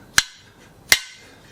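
Two sharp hammer taps, about three quarters of a second apart, driving a metal part into a tailstock tool rack in a home workshop; close, ringing hits that each decay quickly, with no talk.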